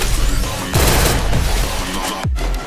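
Loud gunfire in a shooting video game, with a dense stuttering burst of shots, then a pause, then another heavy volley and a final sharp blast, all close and forceful with no talk.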